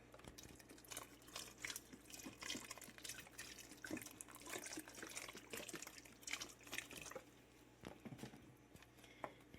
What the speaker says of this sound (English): So I'm going to add some more liquid.